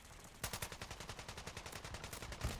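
Rapid automatic gunfire in Call of Duty Warzone 2 DMZ, a fast regular string of sharp shots kicking in after a brief pause, fairly faint and distant, with a heavier thump near the end.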